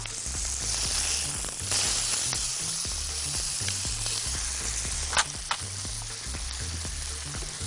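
Onions sizzling in hot butter and oil in a pan for a mushroom sauce, a steady close crackle of frying with occasional sharper pops and faint stirring.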